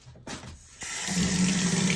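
Warm tap water gushes from a bathroom faucet to rinse a dirty motorcycle air filter, starting with a few splashes and then building to a loud, steady running stream close by.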